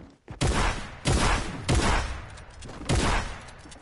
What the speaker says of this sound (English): the combat shotgun.